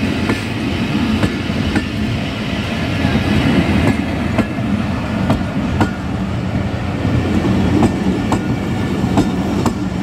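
Tezgam, an express passenger train led by a ZCU-30 locomotive, passes Okara railway station in Pakistan. The roar is loud and steady, with rhythmic clickety-clack of wheels over rail joints.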